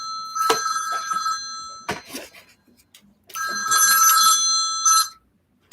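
An electronic telephone ringer trills in two bursts separated by a short gap, loud and close, with no one speaking over it.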